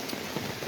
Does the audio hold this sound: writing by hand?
no